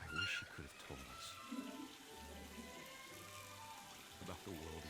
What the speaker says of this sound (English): I would like to jump up and turn this faucet off, please, and thank you.